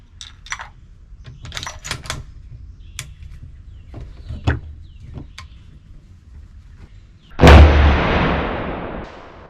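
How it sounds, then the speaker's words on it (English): A Tikka TX3 rifle firing a custom .308 load at a shooting range, one loud close shot with a long rolling echo, preceded by clicks and metallic handling noises of loading a round into the chamber. "Shoot to 50. I'm just going to put one in a chamber at a time."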